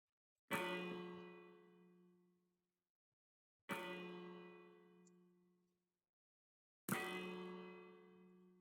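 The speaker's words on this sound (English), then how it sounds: "at the beginning of every single night the clock chimes" Three resonant Minecraft clock chimes ring out one at a time, evenly spaced, each struck clearly and left to fade into silence before the next.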